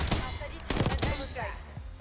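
Burst fire from an AEK-973 rifle in Black Ops 6, quick clusters of sharp close shots punching through the short stretch, mixed with thuds of game action and someone speaking over them.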